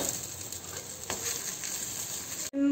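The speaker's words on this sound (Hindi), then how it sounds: "तो यहाँ बन रहे हैं आज दोनों बच्चों के लिए आलू के पराठे।" Aloo paratha cooking on a hot pan at home, a steady close sizzle with faint scraping and a soft tap midway, running continuously until a brief cut near the end.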